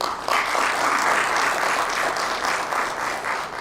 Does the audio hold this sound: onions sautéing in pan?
no